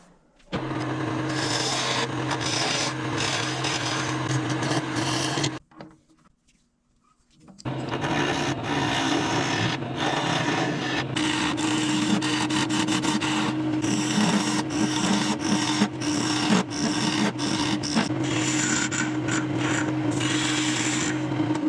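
Continuous abrasive scraping and whirring of a woodturning tool shaping a tenon on a spinning resin and cedar piece, loud and steady, broken by a brief pause before resuming.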